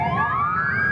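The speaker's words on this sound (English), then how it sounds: "the wailing of ambulance sirens rage through war-torn regions" A siren wails with a rising pitch, loud and close, over a low rumble of background noise.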